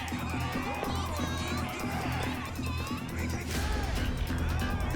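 A dense crowd murmurs and shouts in a city street in the video game Yakuza Like a Dragon, a busy layered din of voices with scattered louder calls and a sharp burst near the end.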